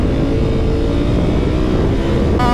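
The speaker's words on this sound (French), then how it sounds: "je viens de taper à l'instant le rupteur de la..." A 2023 Honda Africa Twin twin-cylinder motorcycle engine revving hard against the rev limiter, loud, close and sustained with a dense rumbling drone.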